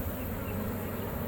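Honeybees collected during a hive removal from under a mobile home buzz inside a container. The drone is dense, constant and close, with no break for the whole moment.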